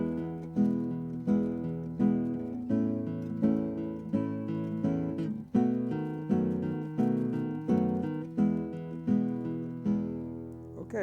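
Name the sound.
guitar pinch technique over a 1-4-5 progression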